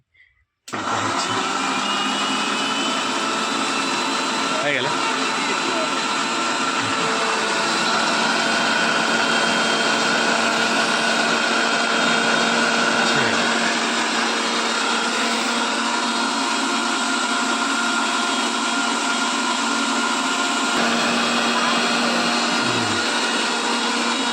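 An electric blender jar grinds oranges into juice. After a brief click at the start, the motor roars loud and steady for over twenty seconds with a constant whine, close by and with no talking.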